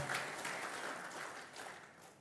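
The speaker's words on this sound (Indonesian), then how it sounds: "Tepuk tangan sekali lagi untuk para panelis dan moderator." Audience applause for panelists and a moderator at a forum: a short burst of dense clapping at moderate distance that fades slightly over two seconds, with no voices.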